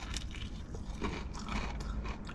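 Close, crunchy bites and chewing of crisp Popeyes fried chicken, a brief continuous crackle with no speech.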